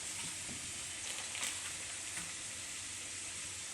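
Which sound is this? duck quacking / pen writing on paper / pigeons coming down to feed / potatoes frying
potatoes frying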